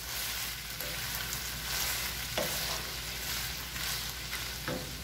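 Al pastor meat browning in a pan, a dense continuous sizzle with occasional soft stirring scrapes, up close and steady with no speech.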